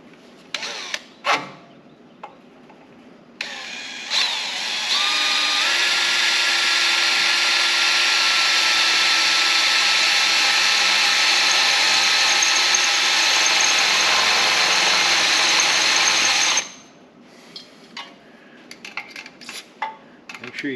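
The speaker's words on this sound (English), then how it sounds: "gonna start off with a smaller drill bit." Power drill with a small bit boring into the steel frame of a 3rd-gen Dodge 2500 truck during a bumper install: a steady, loud grinding whine of about 13 seconds, with a few metal clanks before and after.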